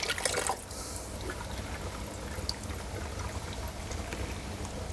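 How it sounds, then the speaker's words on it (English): Water runs through valves and empty canisters, a continuous rushing, gurgling flow with a brief louder splash at the start, steady and moderately close throughout. "So what we're gonna do is that we're gonna run a bit of this water."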